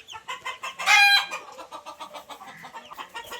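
Broiler chickens on a poultry farm cluck in quick repeated bursts, with one louder drawn-out squawk near the start, then a steady pulsing chorus of close clucks.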